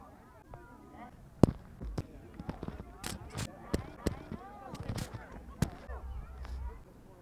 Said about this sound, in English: Fireworks everywhere in the middle of this field, like everywhere.